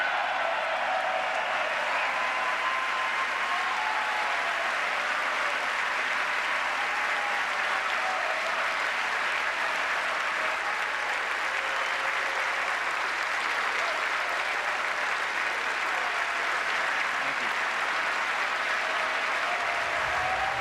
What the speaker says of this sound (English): interrupted by applause, roughly 40 times